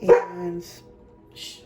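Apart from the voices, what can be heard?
dog barking in the background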